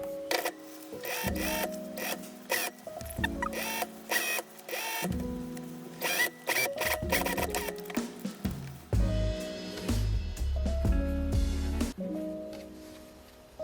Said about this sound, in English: Sew everything together on the sewing machine.